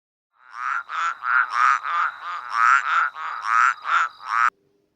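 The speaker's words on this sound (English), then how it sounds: "you can hear the croaking of the wise frog." A frog croaks in a steady run of about a dozen loud, even, close croaks over roughly four seconds, alone against silence, then stops abruptly.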